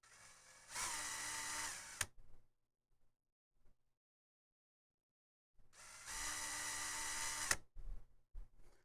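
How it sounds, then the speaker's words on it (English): Two bursts of a small center drill cutting, each about one and a half seconds of steady high whine, separated by a long near-silent gap, with faint clicks and handling knocks afterward, close and fairly quiet. "Center drill."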